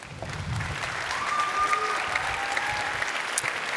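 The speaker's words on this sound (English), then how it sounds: "Thank you for the enormous applause." A conference audience applauds a speaker walking on stage, a dense, even wash of many hands clapping steadily for several seconds with a faint crowd murmur.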